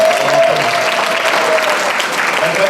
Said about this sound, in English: you need to give a bigger round of applause